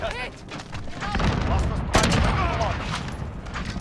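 A new sniper rifle firing in the battle royale game Call of Duty Warzone, with one sharp loud shot standing out over rumbling game noise and a voice talking.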